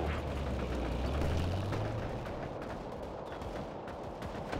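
Sustained gunfire and rumbling explosions in an RTS war game, a dense continuous barrage with a low engine-like drone underneath, loud and busy throughout with no speech.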